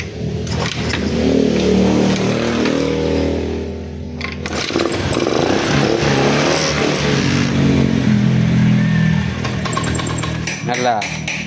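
A Beat ESP scooter engine with a fuel pump that does not hum runs close by, rising and falling as it is revved, with a brief dip midway and a rattling idle underneath.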